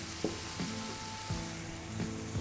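Mint leaves sautéing in a pan for capsicum biryani make a steady close sizzle, broken by a few sharp spatula scrapes and taps against the pan.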